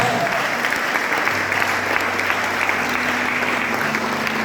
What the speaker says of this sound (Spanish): tal vez denle un aplauso si se lo va a dar